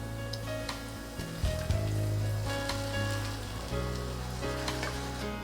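Chopped tomatoes added to a pan of onion and garlic, a soft, steady sizzle and crackle under faint kitchen clatter and occasional thumps, with no talk.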